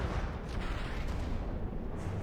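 Mortar fire during a naval battle in the video game From the Depths, heard as a dense, continuous rumble of booms and blasts that blur into a roaring barrage throughout.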